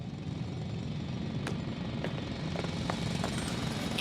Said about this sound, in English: It's a drill.